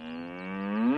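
Oxen in an Asterix cartoon give a single long, steady moo, loud and close, holding its pitch and swelling slightly toward the end.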